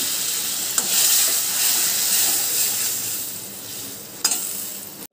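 Water goes into a hot pan of fried spice paste for papaya egg korma, setting off a loud, close, sustained steaming sizzle and hiss, with two sharp clanks near the start and end.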